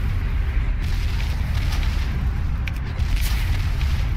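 Bomb explosions in a World of Warcraft quest give a continuous heavy rumble of booms, loud and dense, with no clear gaps between blasts and no speech over them.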